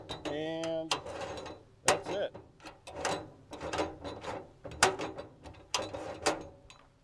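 The adjustment lever on a MORryde Step Above step leg clicks and clacks, giving a run of close, sharp mechanical knocks and ratchet-like snaps with a voice speaking briefly at the start.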